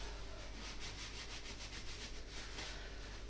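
A Warco WM18 milling machine is cleaned by hand, giving a faint, repeated rubbing and scrubbing rasp in quick back-and-forth strokes over a low steady hum, with no talk.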